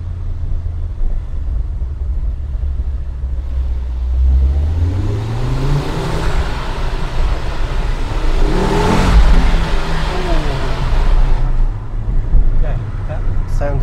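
A Ford Focus RS Mk2 five-cylinder engine accelerating through Goodwood Tunnel, a loud close in-car roar that rises in pitch as it revs, then swells to a peak and eases, with a voice briefly heard over it.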